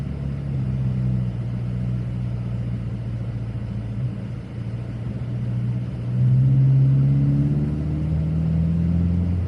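A Subaru WRX drives through a snowy city on winter tires, its engine a steady droning rumble that swells into a brief rise in revs near the end, heard from inside the car with no talking.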